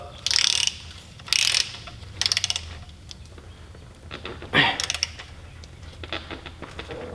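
A socket ratchet clicks as it tightens the oil drain plug on a Ferrari F430 with a new washer, in several quick bursts of rapid pawl clicks separated by pauses, close and loud.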